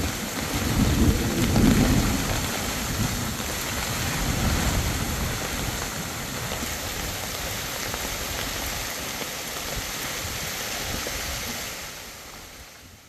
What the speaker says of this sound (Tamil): பலத்த காற்று மற்றும் இடியுடன் கூடிய கனமழை பெய்தது